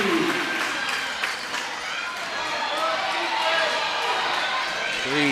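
Crowd noise rises from the stands at a girls' high school basketball game, Northern Valley against Wheatland/Grinnell, a steady loud roar of cheering that runs throughout, with a commentator talking over it.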